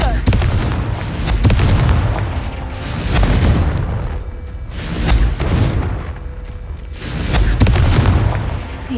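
Repeated Confringo blasting spell explosions in Hogwarts Legacy, several loud booming blasts spaced a couple of seconds apart, each with a sharp crack and rumbling tail.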